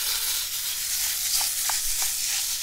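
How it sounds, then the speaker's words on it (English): Sausage sizzling in a cast iron pan preheated to about 400 degrees Fahrenheit in a pizza dome oven. A steady, close hiss continues throughout, with a few small pops. "we're gonna cook the sausage using a cast iron pan"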